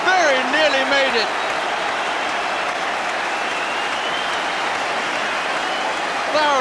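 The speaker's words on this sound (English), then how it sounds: "Thoroughly deserved applause for Peter Barnes." A football crowd at a 1984-85 Coventry City v Southampton match applauds Peter Barnes, a broad, sustained wash of clapping. A commentator talks briefly over its start.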